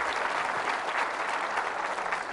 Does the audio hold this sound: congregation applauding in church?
yes